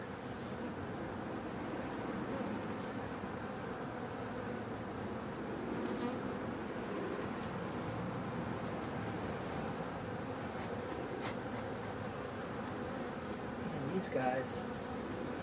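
Bees buzz in a dense, steady drone throughout, close by, with faint muffled voices now and then beneath the hum.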